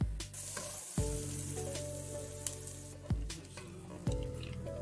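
Sliced onion sautés gently in ghee with cinnamon, a soft continuous sizzle broken by several distinct scraping stirs of a utensil against the pan, with no talking.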